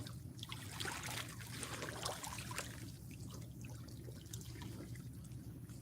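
An empty river barge chopping through waves, heard as a continuous rough wash of water with low rumble and scattered splashy slaps, steady and moderately loud, with no speech.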